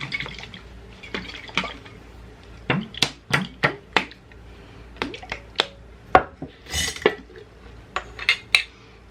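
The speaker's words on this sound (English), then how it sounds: "I'm just gonna put a lid on it and shake" A lidded glass canning jar of Asian garlic salad dressing is shaken up close, giving a run of sharp, irregular clinks and knocks with no talking.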